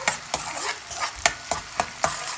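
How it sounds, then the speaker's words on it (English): Garlic and chilies sautéing in hot oil, a close, continuous sizzle punctuated by six or seven sharp rhythmic spatula scrapes against the pan in quick succession. "Saute for 30 seconds so that the flavors from garlic and chilies are infused in oil."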